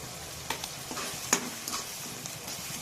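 Masala fries and sizzles in a kadai for chicken biryani while a spoon scrapes and taps against the metal a few times, a steady hiss with sharp clicks close by.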